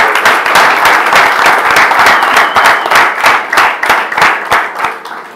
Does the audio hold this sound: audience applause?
yes